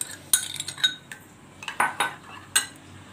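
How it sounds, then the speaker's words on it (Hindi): Cooked bottle gourd being moved into a large bowl, with a spoon clinking and scraping against the dishes in a few sharp, close taps and rattles, no voices. "ये मैं इसको एक बड़े बाउल में शिफ्ट करती हूँ"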